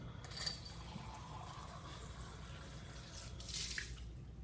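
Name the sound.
rinsing out a glass beaker with water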